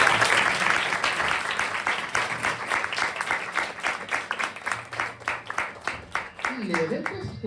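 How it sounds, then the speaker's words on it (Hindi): An audience breaks into loud, dense applause that thins into rhythmic clapping, with a voice speaking briefly as it fades at the end. "सब लोग ताली बजाएंगे।"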